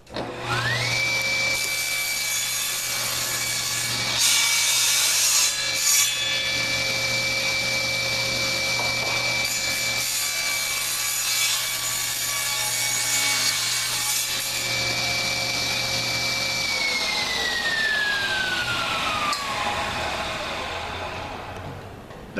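Power saw trimming wood on a scarf joint sled, a loud sustained whine with cutting rasp running for about sixteen seconds before the motor spins down and fades.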